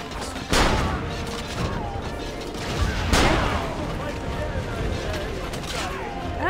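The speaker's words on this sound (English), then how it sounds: "Cannon shot and hold, then release T for cannon." Cannon blasts from Assassin's Creed Revelations during a den defense battle: two heavy booming shots a few seconds apart over a dense din of battle noise and clanking.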